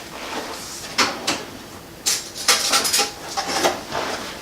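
Metal cutlery clatters and clinks in a few sharp bursts, close by, as a spoon is pulled from a drawer of silverware while making scalloped potatoes with ham.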